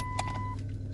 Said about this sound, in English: I've got the car going here